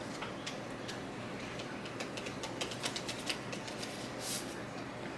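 Someone types on a MacBook Air M1 keyboard fitted with a protective cover. The soft, faint clicks are irregular and quiet, with no voices.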